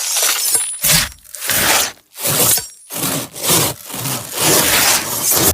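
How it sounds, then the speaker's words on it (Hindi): A knife being sharpened in a home kitchen: a steady run of loud, rasping strokes, about seven in a row with short gaps between them, heard alone and close up. "थोड़ी देर में मेरे घर आंटी के घर से चक्कू घिसने की आवाज आने लगी।"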